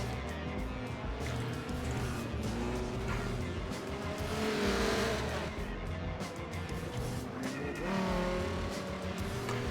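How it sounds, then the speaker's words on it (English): A race car in Forza Motorsport 7 at Long Beach roars steadily down to turn 1, its engine note shifting as it brakes hard, with tire squeal rising and fading through the corner. "Senna coming down to turn 1, getting on the brakes, and going in for the corner"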